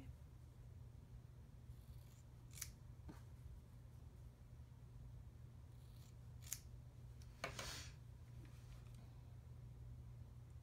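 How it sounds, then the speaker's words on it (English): Scissors cutting oval felt pieces lengthwise, faint and quiet, with a few sharp snips spread apart over a low steady background hum. "I'll cut those the long way"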